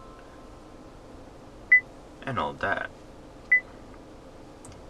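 Touchscreen beeps from the infotainment system of a 2013 Kia Cerato 2.0, two short clean tones spaced apart in a quiet cabin, with someone talking in between.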